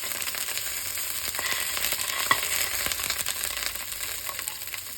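Sausage frying in a pan for cavatappi pasta, giving a steady broadband sizzle and crackle throughout with occasional small pops, close and continuous with no talking.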